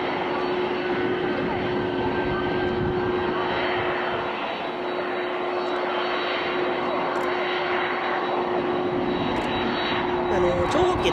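A Boeing 767-300ER jet approaches Matsuyama Airport for landing on a mountain-side approach, its engine roar steady and fairly loud with a sustained whine. The noise grows slightly toward the end while someone talks over it.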